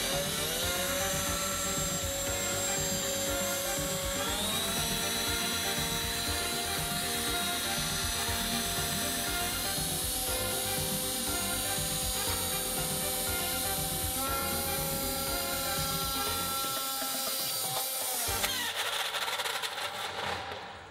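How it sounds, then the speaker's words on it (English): A spinning disc machine whines at high RPM with failing bearings, a loud, steady mechanical grinding and ratcheting drone with rising pitch that runs for about twenty seconds before abruptly breaking down. "The bearings are dead. Those bearings are not rated for that RPM."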